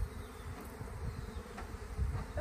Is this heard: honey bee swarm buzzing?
yes